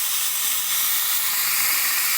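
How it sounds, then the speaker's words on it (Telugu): A pressure cooker of rice on a low flame vents steam through its whistle, a steady close broadband hiss that holds evenly without a break for the whole stretch. "అయితే రెండు విజిల్స్ వచ్చాయండి"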